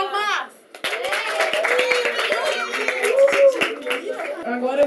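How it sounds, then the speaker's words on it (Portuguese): A classroom audience of children claps in a lively burst of scattered hand claps after a chemistry quiz answer, mixed with excited chatter and kids' voices close by. "Palmas!"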